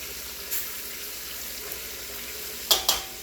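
Meat juices and fat sizzle in a frying pan, a quiet constant crackle broken by a soft knock and two sharper scraping clatters near the end.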